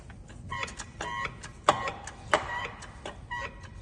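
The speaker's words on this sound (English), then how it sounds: "So we're just going to pump the porta power." A hydraulic porta power pump is worked by hand during sill repair on a VW Transporter T6.1, giving a run of irregular clicking and ratcheting knocks with a couple of sharper clanks, close but fairly quiet.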